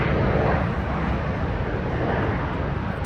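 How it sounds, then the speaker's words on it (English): Airplanes pass overhead during outdoor football field training, a continuous broadband roar that stays loud and steady without a break. "these dang planes are getting annoying"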